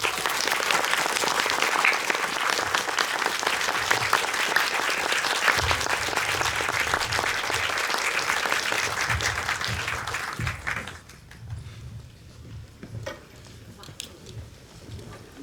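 An audience at a film festival guest talk applauds to welcome three guests, dense continuous clapping that fills the room for about ten seconds before thinning out to scattered claps and murmurs.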